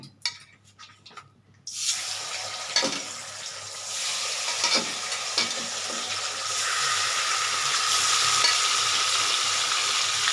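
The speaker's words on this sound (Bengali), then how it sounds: "এই তেলটা মধ্যে মাছগুলো আমি অল্প অল্প করে ভেজে নিচ্ছি" Small fish are fried in leftover oil in a home kitchen, breaking into a loud, steady sizzle after a brief quiet clatter, the hiss swelling and holding close up with a few stirring knocks.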